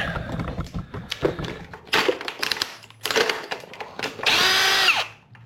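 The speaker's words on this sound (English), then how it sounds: "Sorry about that drill." A power drill whirs in short bursts between clatter and handling noises while working on 12mm bolts, ending with one longer, louder run that winds down.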